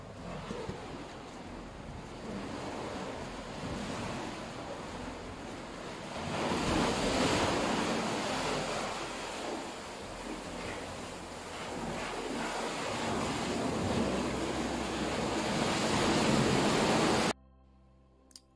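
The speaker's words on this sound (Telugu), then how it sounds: "అక్వేరియం బీచ్ నా ఫేవరెట్ బీచ్ అని చెప్పచ్చు, చాలా పీస్ఫుల్గా ఉంటుంది." Ocean surf rolls in continuously at Aquarium beach in Goa, a broad, loud wash of breaking waves that swells and recedes with wind rumble before cutting off near the end.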